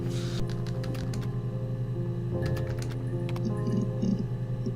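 Keyboard typing of search words in the video game Her Story, heard as rapid bursts of close, crisp key clicks over a steady low hum, with pauses between flurries.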